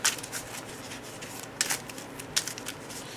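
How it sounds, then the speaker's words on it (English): Cardfight Vanguard card deck being shuffled by hand, a few short crisp riffling bursts separated by quieter pauses, close and fairly faint. "Shuffle your decks,"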